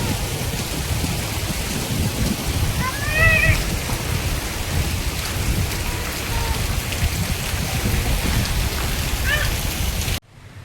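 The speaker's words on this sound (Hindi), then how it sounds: "तो बारिश तो भाई बहुत तगड़ी वाली बारिश हो रही है।" Very heavy rain pours down steadily as a dense, continuous wash of hiss and patter, with a few faint chirps or squeaks rising briefly over the downpour before it cuts off abruptly near the end.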